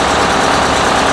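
A 1976 mechanical tour bus engine running loud and close, a dense steady rumbling drone with no pauses or voices.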